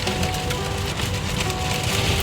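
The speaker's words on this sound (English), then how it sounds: "Hail's coming down. It's definitely hailing." Hail and heavy rain hit a car, a loud, unbroken hiss of drumming with frequent sharp pings and taps layered through it, close and steady with no talk.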